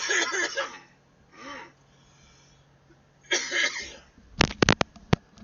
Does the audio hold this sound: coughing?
yes